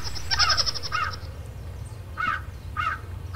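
Crow cawing in harsh bursts: a quick rapid run of caws at first, then two separate louder caws after a pause, heard over a low steady background hum.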